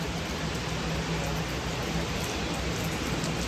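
A sudden heavy downpour hisses steadily, a dense and even wash of rain noise that holds constant the whole time.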